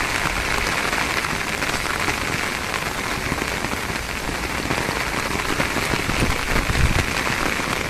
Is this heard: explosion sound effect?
no